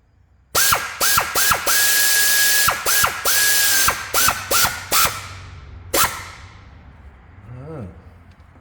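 A ratchet tightens a hose clamp on a 2004 Jeep Grand Cherokee during a coolant leak repair: about a dozen loud, close clicking bursts in quick succession, then a short pause and a final burst before quiet.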